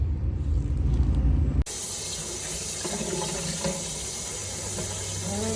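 Tap water rinsing a cyanotype print: a steady, close gush of running faucet water starts abruptly and continues with splashing over the fabric, no voices.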